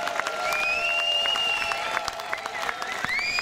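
An outdoor festival crowd at Banjo Jamboree 2018 in Čáslav applauds the band with a steady wash of clapping, and sustained tonal notes ring over it.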